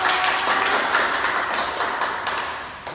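A school class claps together in a classroom, a steady wash of many hands with a few sharper accents, holding fairly even throughout before easing slightly.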